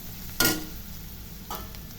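A spoon stirring coriander powder into a frying mixture in a pan, two short scraping strokes over a faint steady sizzle, close and quiet.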